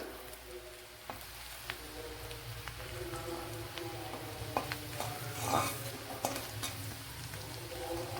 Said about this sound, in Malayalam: ഇഞ്ചിയും വെളുത്തുള്ളിയൊക്കെ നല്ലതുപോലെ വയണ്ടു വരണം